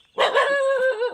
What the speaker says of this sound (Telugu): ఆల్రెడీ కుక్క అయితే మనకు వెల్కమ్ చెప్తుంది ఆల్రెడీ.